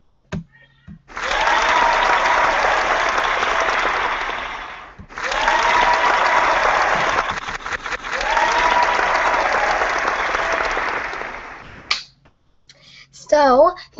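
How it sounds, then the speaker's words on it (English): Three bursts of canned-sounding applause, each a few seconds long and separated by short gaps, followed by a brief voice-like sound at the end. "please give me a round of applause because this is my second video of today"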